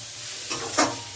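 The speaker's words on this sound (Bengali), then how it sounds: "এটা মাছের তেল দিয়ে বেগুন, একটা বেগুন দিয়ে আর লাইট ছোকলা দিয়ে ভাজা করছি" Eggplant slices frying in fish oil with a light tempering give a quiet hiss that swells into two brief bursts of sizzling as the pieces are stirred, with no talking.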